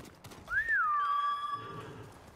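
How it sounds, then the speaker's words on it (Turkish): A horse whinnies once in the video game Ghost of Tsushima, a clear rising then falling call near and fairly loud, heard alone against quiet background. "Vallahi bir atı çağırdım ama bu at benim atım gibi değil ya"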